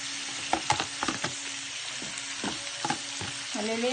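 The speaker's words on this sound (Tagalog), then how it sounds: "isunod natin yung pork na hiniwa-hiwa ng maliliit" Small chopped pork pieces for sisig sizzling and frying in a pan, with a steady crackling hiss and several sharp stirring clatters of the utensil against the pan throughout, no voices.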